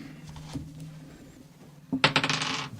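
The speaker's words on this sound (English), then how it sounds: "Dex and a dice roll, right?" Dice tumbling and clattering across a table during a tabletop role-playing game, a faint rattle followed by a louder burst of clicks near the end, with no talking.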